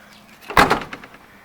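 Rubber weather stripping on a 1977 Corvette door gives a single short, close thump with a faint rattling tail, alone in a quiet space.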